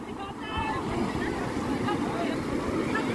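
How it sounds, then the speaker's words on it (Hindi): Fast-flowing water of Siddhnath Dari waterfall near Mirzapur, a broad continuous rushing roar with a gusty wind-like texture, steady and loud throughout. "पानी का बहाव काफ़ी तेज है"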